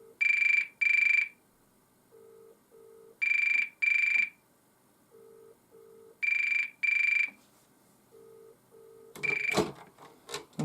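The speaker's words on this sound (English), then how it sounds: "The first ring's softer and the second ring's louder." A 1980 GPO Mickey Mouse telephone, model TSR1001A, rings in three shrill double bursts with quiet gaps between them, followed by a brief clatter of handling at the end.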